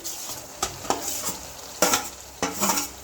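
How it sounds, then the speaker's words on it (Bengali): Potatoes stir-fried in a pan with mutton liver for a Bengali liver curry: a sizzling bed broken by several sharp spatula scrapes and clanks in an uneven rhythm, close up. "এবার আলুগুলো দিয়ে দেবো,"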